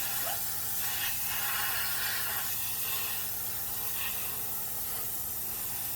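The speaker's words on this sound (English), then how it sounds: "I'm going to go ahead and give it one more color coat." A steady hiss of spray paint on a 1/25 scale 1970 Baldwin Camaro model car runs continuously, with faint bursts layered over a low background hum and no voices.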